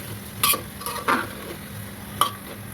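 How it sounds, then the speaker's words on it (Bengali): A spoon stirs papaya and carrot in a pot for chicken soup, giving three short scraping, clattering strokes at close range over a low simmering hiss, with no talk. "সেটাকে আমি একটু নেড়ে নেবো"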